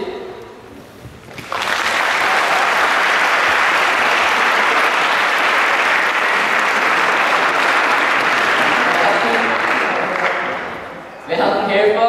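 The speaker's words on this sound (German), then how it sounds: "Und ich möchte jetzt einen kräftigen Applaus für alle Aufbauer." A crowd applauds the builders of an 85,000-piece domino setup with a renewable energy theme. The clapping starts abruptly after a quiet opening, stays loud and sustained for about ten seconds, then tapers off before other sound returns at the end.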